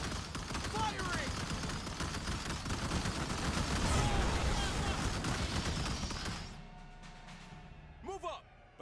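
Dense, continuous gunfire and explosions crackle through a battle in the sci-fi strategy game Starship Troopers: Terran Command, then cut off abruptly, leaving a short voice line near the end.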